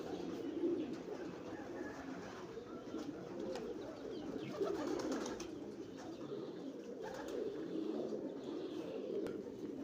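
A pair of breeder pigeons coos in low, rolling, repeated calls, faint but continuous, with a light flutter of wings at one point.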